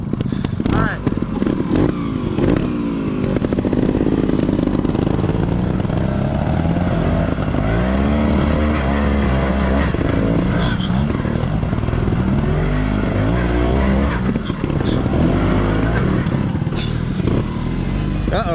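A trials motorcycle climbs a slope, its engine running loud and steady with rises in revs and some clattering, while people talk over it throughout.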